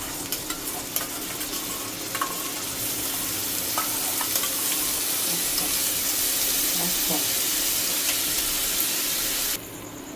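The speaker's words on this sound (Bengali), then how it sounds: "এবার দিয়ে দেবো ফেটিয়ে রাখা টক দই।" Whisked sour yogurt hits a pan of aloo dum and sizzles with a steady frying hiss, spoon stirring and occasional clinks throughout, then cuts off abruptly near the end; faint voice in the background.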